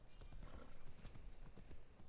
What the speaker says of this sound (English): let me get on my stupid ass horse and have my horse take me there